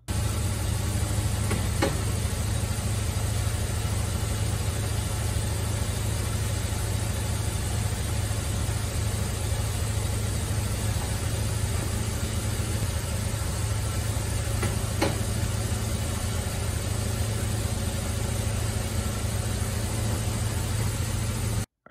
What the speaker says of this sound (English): we'll just fire up the car, check the lights